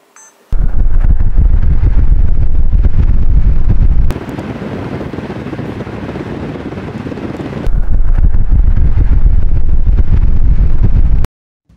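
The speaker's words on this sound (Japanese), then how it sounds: "強風でテストしてみます。" Strong wind buffets a DJI FM-15 flexible microphone with wind noise reduction on, a loud, deep roar, easing to a softer rush for a few seconds, then blasting hard again before cutting off.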